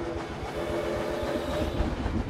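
Roller coaster trains with horns in Planet Coaster, a continuous rolling rumble with clacking and sustained horn tones layered on top, loud and busy with no talk.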